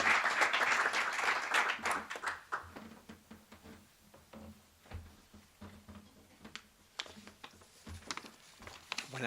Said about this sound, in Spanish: un aplauso a don Roque y adelante